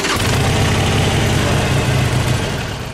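A 2014 Harley-Davidson Sportster 883 Iron motorcycle engine starts and runs at a steady, loud, rumbling idle close by, with no voices over it.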